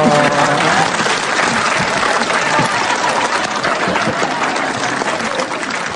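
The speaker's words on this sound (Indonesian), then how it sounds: "Loh, tepuk tangan buat ini dong." A television studio audience breaks into loud, sustained applause, with dense crowd clapping that stays steady throughout.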